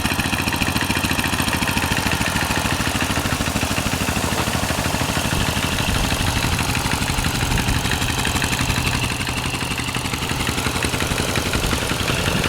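A 1948 Whizzer motorbike engine runs steadily with a continuous chugging, rattling putter at moderate level, close by and without talk throughout.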